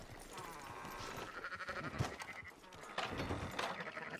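Sheep bleating in Red Dead Redemption II, several overlapping calls over a busy game ambience with music, fairly close and steady, with a stronger burst near the end.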